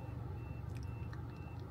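A reversing truck's warning beeper sounds faintly at a distance while the vehicle turns on a narrow road beside a drop, a series of soft regular beeps over a low engine rumble.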